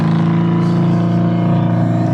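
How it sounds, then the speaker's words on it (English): Loud, close engine drone of a factory-built Camaro GT4.R race car with 500 horsepower and an air-shifted six-speed sequential box, a steady sustained rev with no voices over it. "So it's a factory-built Camaro race car"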